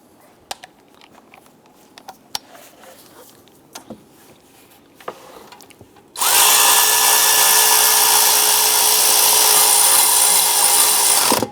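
A power tool snugs down a bolt on the drive belt idler of a 2002-2008 Dodge Ram 1500. Quiet clicks and small knocks come first, then a loud, steady, whirring run fills the rest of the clip close by.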